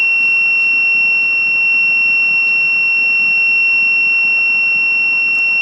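A PIR motion sensor security alarm buzzer sounds a loud, steady, unbroken high-pitched tone, close and continuous throughout.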